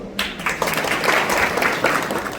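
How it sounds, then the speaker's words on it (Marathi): Applause from an audience at a lake beautification inauguration event, a steady wash of many hands clapping close by, continuing throughout without pause. "तर टाळ्या संतोष मरगज हे तुमच्यासाठी वाजलेले आहे"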